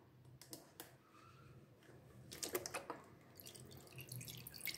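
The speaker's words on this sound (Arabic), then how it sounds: "نضيف تقريبا نصف كوب من خل الطعام" Roughly half a cup of table vinegar is poured into a container, a faint close trickle with small drips and splashes that grows slightly fuller toward the end, without talk.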